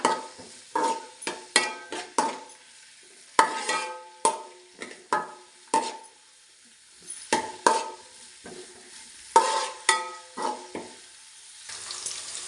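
Chopped ginger and green chilies are stirred in oil in a frying pan: a series of distinct, irregular scraping strokes from a spatula, each followed by a short sizzle, close and fairly loud with brief pauses between.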